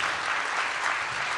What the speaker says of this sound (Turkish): Tüm değerli orkestra kardeşlerime şöyle bir alkış